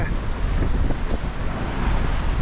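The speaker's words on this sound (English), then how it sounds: "there are some waves and wind" Strong wind and the wash of waves while sailing a boat off the Cyclades islands in Greece in about 20 knots of wind, a loud steady roar with buffeting against the microphone and no voices.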